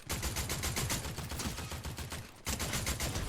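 Rapid automatic gunfire rattles nonstop in a first-person shooter match, dense loud bursts with a brief pause before the shooting resumes, no voices over it.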